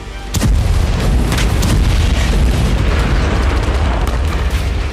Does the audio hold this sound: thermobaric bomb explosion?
yes